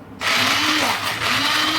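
An electric hand mixer starts up suddenly and whirs loudly and steadily at close range while mixing chicken haleem, its motor pitch dipping slightly once.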